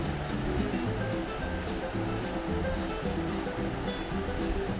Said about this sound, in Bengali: এরপর ভালো করে নাড়িয়ে নিয়ে তার মধ্যে গরম জল পরিমাণ মতন দিয়ে দিতে হবে।